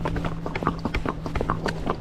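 Hoofbeats of a gaited horse drift in and out of a foxtrot, a quick uneven clopping rhythm on the ground under a steady low hum, moderately close.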